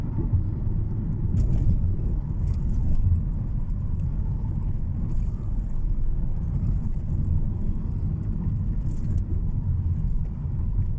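A car drives along a road in Thailand, with a continuous low engine and tyre rumble that stays steady throughout and no voices.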